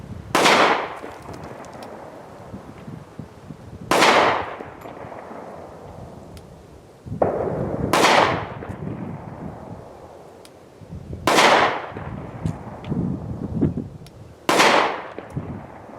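Kimber Pro Raptor II .45 ACP 1911 pistol firing five single shots, each a sharp loud crack with a short decaying echo, spaced about three to four seconds apart outdoors.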